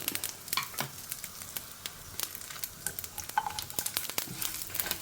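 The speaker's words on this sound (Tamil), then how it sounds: "கடுகு நல்லா பொரிய ஆரம்பிச்சிருக்கு" Mustard seeds spluttering in hot oil on a low flame with dried red chillies and curry leaves: rapid, irregular crackling pops over a constant close sizzle that lasts throughout.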